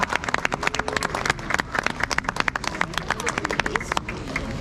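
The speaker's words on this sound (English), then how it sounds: "Huge round of applause for the Rengma and the Senyang tribe." An outdoor audience at the Hornbill Festival cultural program applauds the Rengma and Senyang tribal performers: steady, dense clapping from many hands, moderately distant, with crowd murmur underneath throughout.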